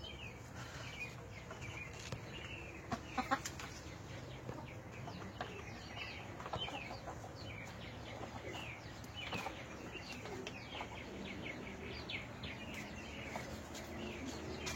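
Farmyard chickens, a rooster with his hens, giving soft scattered clucks and chirps at a moderate distance over a steady outdoor background, with a few brief louder calls and no talking.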